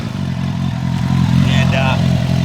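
A 2002 Suzuki GSF 1200 Bandit streetfighter motorcycle's exhaust gives a loud, close, steady low burble with a slight rise partway through, while a voice speaks over it briefly.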